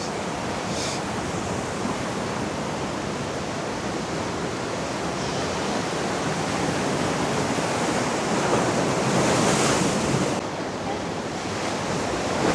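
Pacific Ocean surf at a San Diego beach, a steady broadband wash of breaking waves with a louder swell near the end, some wind buffeting the microphone, no voices.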